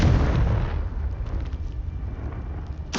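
A Confringo fire spell in Hogwarts Legacy detonates with a loud, deep boom that decays into a rumbling crackle, ending with a brief sharp burst.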